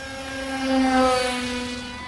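A Joysway Dragonfly radio-controlled plane's electric motor whines steadily, a loud tonal drone with harmonics that swells as it passes nearby and then eases off slightly.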